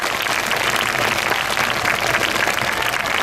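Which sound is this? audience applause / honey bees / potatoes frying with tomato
audience applause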